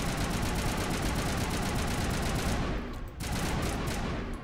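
Sustained rapid gunfire in Mass Effect Legendary Edition as mines are shot at, a loud dense automatic burst that briefly cuts out before resuming.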